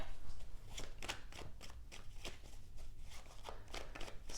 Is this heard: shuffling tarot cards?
yes